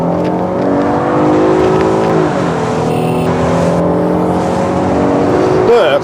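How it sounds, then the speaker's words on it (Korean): Hyundai Aslan G330 sedan pulling away hard in sport mode, its engine note rising steadily in pitch, dipping briefly as a gear changes, then climbing again; a loud, continuous sound inside the cabin. "가속 페달을 밟고 차가 달려나가는 느낌"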